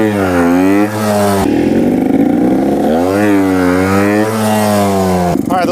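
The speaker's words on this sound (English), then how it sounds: "really rev up that engine, let the clutch go, and lean forward, dipping down in order to control that wheelie" A trials motorcycle engine revs hard for a wheelie start, loud and close, rising and falling in pitch through repeated revs with a brief drop between them.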